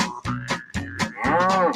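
A voice imitates a cow's moo during a school assembly performance, sung as loud rhythmic syllables that end in a long, drawn-out moo.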